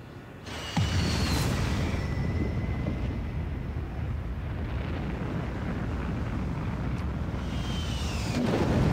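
A thermonuclear bomb detonating in the strategy game Civilization VI: a sudden heavy blast followed by a long, loud rolling rumble with aircraft-like drone that persists throughout.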